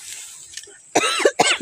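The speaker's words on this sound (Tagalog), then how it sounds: "Nitukar akong ubo gabi eh." A person coughs three times in quick succession, loud and close, after a quieter stretch of faint background sound, with no talking.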